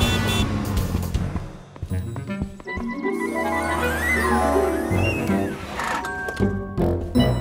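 A little cartoon car in the French children's show Oui Oui drives off, its motor humming and rising in pitch under bright music and sound effects, with a short voice near the start.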